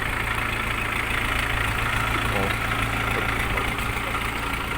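A 2023 Jinma 404 mini tractor runs in low range with its creeper gear engaged, a constant loud diesel engine drone that stays steady and close from start to finish.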